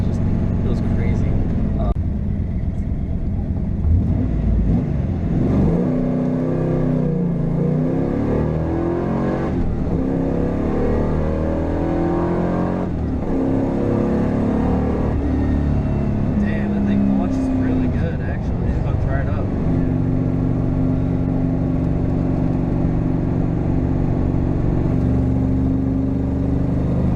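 A 1994 Chevrolet Camaro Z28 with a loud cam drives along, its engine rumbling and surging steadily throughout, with people talking inside the car over the constant drone.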